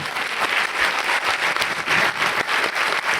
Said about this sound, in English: especially a big applaud for Eléa, who did so much work in French